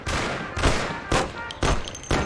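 Gunfire in the video game Mafia comes as several loud, sharp bursts spaced roughly half a second apart, with no voices between them.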